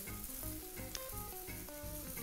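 Pieces of secreto pork sizzle in a hot pan, a steady soft crackle and hiss with faint stirring, close and quiet, no voices.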